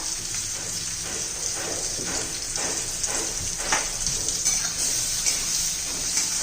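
Chopped onion sautés in a pan for a dry red amaranth leaf dish, giving a continuous close sizzling hiss with occasional soft stirring scrapes throughout.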